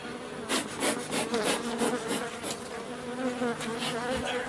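Honey bees swarm and buzz densely around a hive being shaken open during a honey harvest, a steady close hum with brief rising surges and faint knocks of wood.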